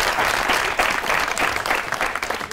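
Studio audience applause on a comedy talk show, a dense steady patter of many clapping hands, fairly close and continuous for a few seconds with no talk.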